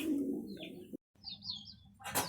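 Domestic pigeons in a coop coo softly near the microphone, low murmuring calls with a brief pause, then a faint flutter or rustle at the end; no voices.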